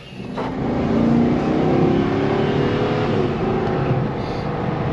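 A police motorcycle engine revs in a repair shop, rising into a loud, sustained drone that holds for several seconds and eases slightly near the end, with no talking.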